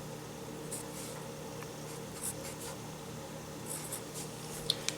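Pen or marker scratches quietly across a writing surface in short strokes while polynomial coefficients are written out, with a few light taps near the end.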